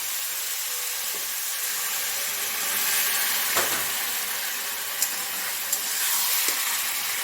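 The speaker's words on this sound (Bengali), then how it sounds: "হাফ কাপ মতো জল দিলাম" About half a cup of water meets a hot pan of onion and poppy-seed curry, bringing a steady bubbling sizzle and steam hiss with a few soft clicks and knocks near the end.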